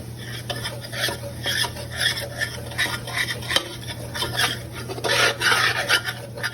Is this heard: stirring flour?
yes